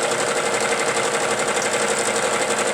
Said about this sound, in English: So now I'm quilting the back section of the pillow